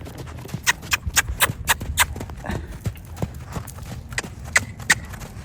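Quick, close hoofbeats of a horse on hard ground pound out an uneven rhythm, with a few sharper strikes standing out.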